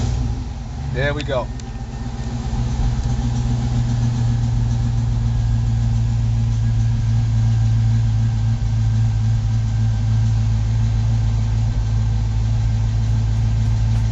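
A car engine cranks over and catches, then settles into a steady, close idle with a low rumbling drone while someone speaks briefly at the start.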